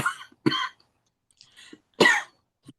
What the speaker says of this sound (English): I'm coughing. That's what I'm doing.